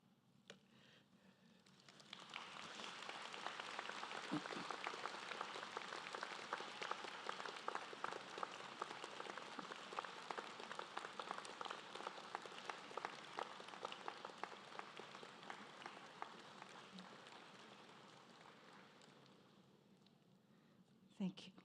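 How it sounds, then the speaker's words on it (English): Graduation convocation audience at the University of Guelph standing to applaud, a broad sustained round of clapping that swells after a quiet start and fades near the end, heard from a distance. "now would be a good time to stand and applaud all who have helped you to get to this point"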